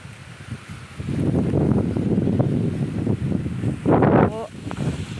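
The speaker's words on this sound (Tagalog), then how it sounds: "Lakas ng hangin." Strong mountain wind gusting against the microphone, a broad rushing roar that builds after a quiet start and surges again near the end, with a voice briefly heard.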